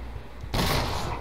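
A single sharp gunshot in the post-apocalyptic game Mutant Year Zero, bursting in suddenly and loud after a quiet stretch, with a noisy tail that rings on to the end.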